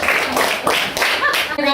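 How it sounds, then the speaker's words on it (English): A class audience at a school debate claps in a close, loud burst of applause, with children's voices and talking mixed in toward the end. "let's give them a round of applause, please"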